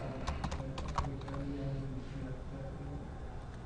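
Someone types on a computer keyboard: a quick burst of close key clicks near the start, then quieter clatter under a soft hum, faint overall.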